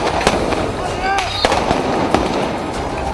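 Sharp gunshot cracks ring out during a protest clash between demonstrators and the army outside the US embassy in Beirut, scattered irregularly over a noisy crowd with voices underneath.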